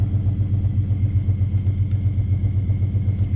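A V6 Mustang idles with its idle chop switched off, a smooth steady low rumble with an even pulsing beat and a faint airy hiss above it, heard close with no talking.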